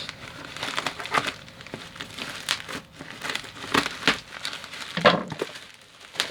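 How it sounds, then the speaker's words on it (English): Plastic bubble packing from a CandyLab wooden toy car package crinkles and crackles in irregular bursts as it is handled, close and fairly loud, with a few sharper crunches and no talk. "So we got some bubble packing"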